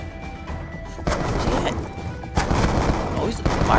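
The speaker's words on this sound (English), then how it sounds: "Why are you trying to shoot up here?" Video game gunfire, a few sharp loud shots cracking out at intervals over a busy, noisy game background with a player's voice talking.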